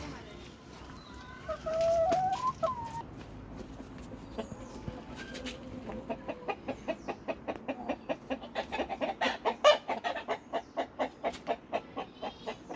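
Village chickens cluck outdoors, with a steady run of short rhythmic clucks close by and a higher squawk early on, over faint background voices.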